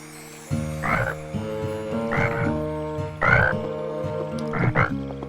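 A frog croaks at nightfall, four loud throaty croaks at a slow, regular pace over a low tonal backdrop, close and clear.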